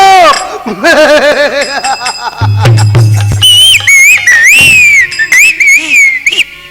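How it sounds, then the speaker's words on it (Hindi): A person whistles loudly in wavering, swooping tones during a Bhojpuri nautanki folk theatre performance, with a low buzz, clatter and laughter-like voices mixed in and the whistling continuing almost throughout. "अबे तुम कहाँ सीटी बजा रहे हो?"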